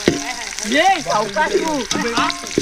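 Garlic and chillies frying in a pan over a village cooking fire, with a steady close sizzle heard under a person talking.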